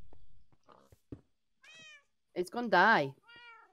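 A cat meows a few times in a village, short mews ending in one louder drawn-out meow, heard close between and alongside a person talking.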